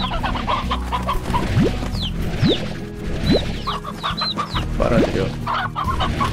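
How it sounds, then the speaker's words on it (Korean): Hens in the video game Slime Rancher clucking repeatedly in a busy flock, with frequent short clucks and rising squawks over a low game hum, while a person speaks briefly. "이거 암탉이 너무 많잖아."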